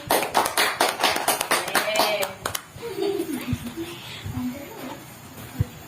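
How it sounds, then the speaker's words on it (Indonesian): A classroom group receives a short burst of hand clapping from students that fades after about two seconds, followed by quieter room noise, scattered taps and children's voices. "tepuk tangan untuk kelompok Mbak Selvi."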